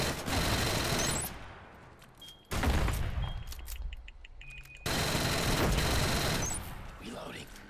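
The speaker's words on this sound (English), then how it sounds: "the Assault's new weapon is a sidearm, and it's the LS-12 SMG." Bursts of LS-12 submachine gunfire in Killzone Shadow Fall, an Uzi-like sidearm: three rapid sustained volleys separated by short gaps, loud and close, with faint game voices in between.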